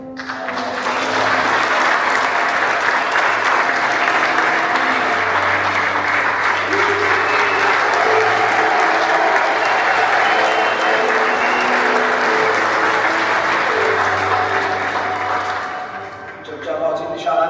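Wedding guests at Meron and Yared's ceremony break into loud, sustained applause just after the ring exchange, a thick crowd roar that holds for several seconds with voices mixed in before tapering off.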